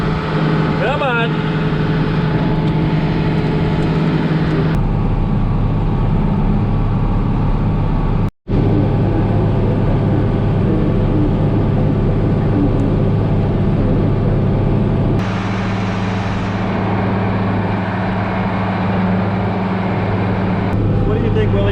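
A vehicle plowing dirt, driving round and round, hums with a loud, steady, close engine drone that shifts in tone a few times, with a brief cut in the middle.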